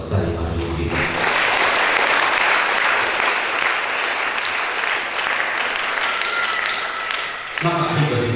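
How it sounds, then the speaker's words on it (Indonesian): Loud, dense audience applause at a spiritual motivation talk, swelling in after a second and holding steady for about six seconds before tapering, with music or voices at the edges. "tepuk tangan untuk generasi Al-Qaim hari ini"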